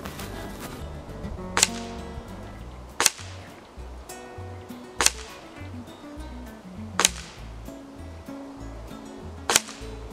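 An EKOL Thunder air rifle with a steel coil spring fires five spaced shots at a 25-meter target, each a sharp close crack, over a steady background of outdoor noise.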